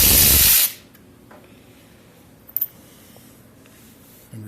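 Short loud hissing burst of aerosol lubricant sprayed into the cylinders of a 1975 Ford 460 engine, cutting off quickly, followed by quiet shop room tone and a couple of faint clicks.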